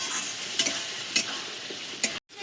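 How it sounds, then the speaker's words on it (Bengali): Tender coconut flesh being stirred into cooked masala in a pan, a steady sizzle with a few sharp spoon scrapes at intervals, close and moderately loud, cutting out briefly near the end. "ডাবের কচি অংশটা দিয়ে একটু নাড়াচাড়া করে নেব।"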